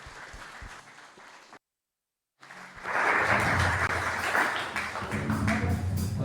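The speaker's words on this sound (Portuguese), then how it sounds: "Você pode aplaudir o Senhor bem forte." A church congregation at a Sunday family service bursts into loud, sustained applause after a brief silence, the clapping dense and filling the room.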